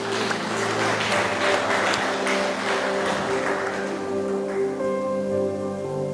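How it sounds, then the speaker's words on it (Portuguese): A church congregation claps together in sustained applause that goes on steadily at a fairly loud level and fades a little toward the end, with a sustained musical tone underneath. "Você pode aplaudir o Senhor por isso?"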